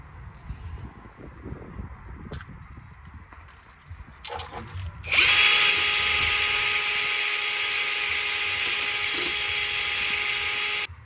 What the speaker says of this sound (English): I use a drill and a wire brush attachment to clean it